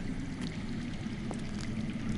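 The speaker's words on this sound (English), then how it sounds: "I hear water. From underground." Underground water flowing in the Game of Thrones Telltale video game, a steady low rushing wash that is continuous and moderately loud, with no voices.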